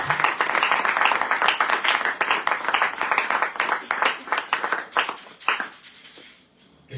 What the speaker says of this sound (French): Est-ce que tu peux bien acclamer pour Jésus ce matin?